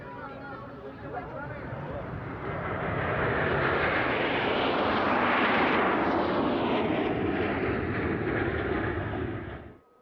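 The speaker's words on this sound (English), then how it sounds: "The Sukhoi Su-24 Fencer is a supersonic swing-wing two-seat attack aircraft." A Sukhoi Su-24 Fencer swing-wing attack jet passes at an airshow, its engine roar swelling to a loud, broad rush with a sweeping pitch shift as it goes by, then cutting off abruptly.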